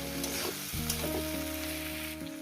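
Steady sizzling and stirring of spices and vegetables being sautéed in a pan for a potato, flat bean, eggplant, bori and pea-shoot greens chorchori, loud and close, with sustained tonal music underneath.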